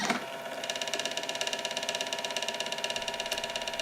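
A CNC engraving machine probes a PCB blank to map its surface height, giving a steady, rapid mechanical ratcheting and whirring, close and fairly even throughout with faint tonal whine above.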